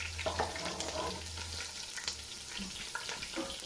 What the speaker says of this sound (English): I've been frying for 2 minutes